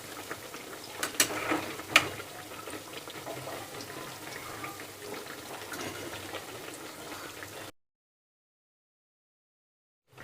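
Horse gram vadas fry in hot oil as a soft, steady crackling sizzle with a few sharper pops, heard faintly and close up before the sound cuts to silence.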